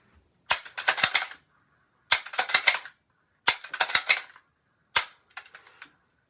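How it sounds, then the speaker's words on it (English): A bolt-action rifle is fired repeatedly. Four separate sharp clusters of crackling reports and clacks arrive at roughly regular intervals of about one and a half seconds, with near silence between them. "So every time you load it, you open the bolt, close it up,"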